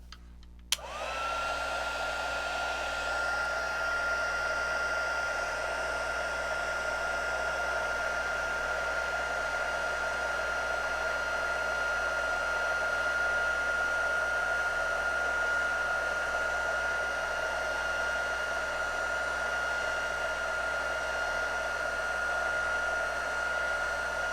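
Heat tool blowing steadily at close range to melt embossing powder on a handmade card, a loud constant fan whoosh with a high whine that runs nearly the whole time after a brief click at the start.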